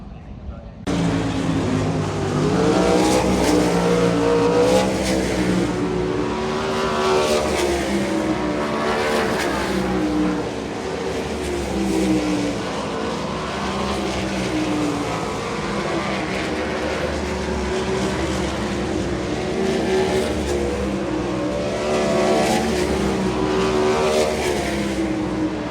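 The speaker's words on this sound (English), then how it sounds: "Heating the motors next and then hot laps." Dirt track sprint cars running hot laps, their engines droning and revving steadily at a distance across a long stretch, while people talk over the continuous roar.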